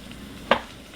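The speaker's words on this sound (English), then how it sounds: "Stir, scrape the bottom really good." A utensil makes one short scrape across the bottom of a pot while stirring a cheddar ale porridge mixture, standing out sharply over a faint, quiet background.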